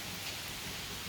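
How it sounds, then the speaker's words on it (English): Steady rain falls outdoors at dusk, a dense, even hiss of drops on surfaces with no voices, holding at a constant level throughout. "It's raining here."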